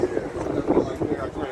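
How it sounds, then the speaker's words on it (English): Strong wind gusts buffet the microphone outdoors on a street, a rough, rumbling roar that swells and dips, with someone talking over it. "It's windy, but it ain't raining."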